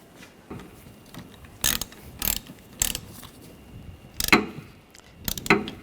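A ratchet tightens the wiper arm nut on a 2013–2019 Ford Escape, in five or six short bursts of quick metallic clicking separated by quiet pauses, close up.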